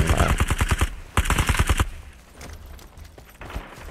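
Rapid automatic gunfire in the Super People battle royale game, two fast bursts of evenly spaced shots close by in the first two seconds, followed by quieter scattered distant reports.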